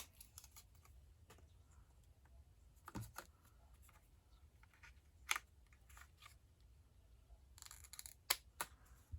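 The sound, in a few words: snips cutting acetate overhang on a Christmas card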